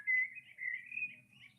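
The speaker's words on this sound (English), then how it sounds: "The birds in the background" Small birds chirp and twitter in the background, a run of high, bright tweets close together, fairly clear over a faint low hum.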